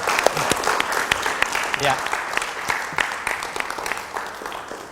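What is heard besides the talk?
applause for speaker Bung Bill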